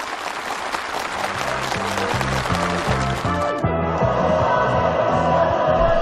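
A crowd at a ceremony handing over permits for new rural housing gives sustained, enthusiastic applause, a dense, steady wash of clapping with music playing underneath.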